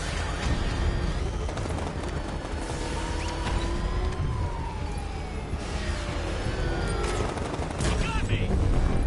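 Automatic gunfire during a Batmobile road chase in a Batman video game, sustained and loud, blended with wailing sirens and engine roar throughout.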